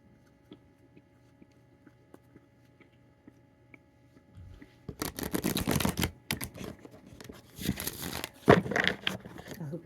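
Playing cards are shuffled close by after a quiet hum-filled pause, the riffles coming as dense, rapid fluttering bursts that start suddenly and repeat in short runs, with no talking.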